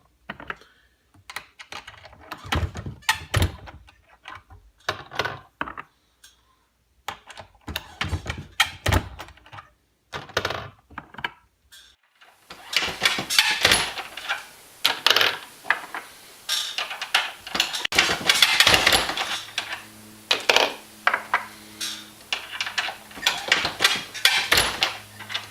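An ammunition reloading press crimps bullets into their case mouths, making repeated mechanical clunks, clicks and metallic handling sounds in a steady working rhythm that grows busier and louder partway through.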